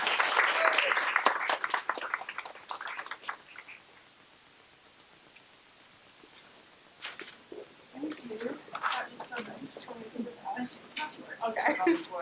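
Audience applause greeting a speaker at a DC intern summit event, a burst of clapping that fades out, then a quiet pause before scattered sounds and a voice resume.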